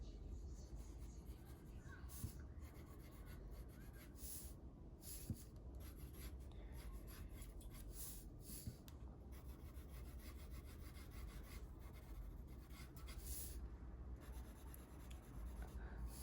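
A pencil scratches across paper with steady, close rubbing strokes and short pauses between them, quiet throughout.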